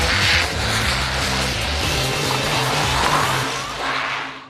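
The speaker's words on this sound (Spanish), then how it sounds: "utilizando coches teledirigidos en una pista de carreras." Remote-controlled cars race around a track with a continuous high, buzzing motor whine and tire noise that stays loud and close throughout, swelling slightly toward the end, with no voices.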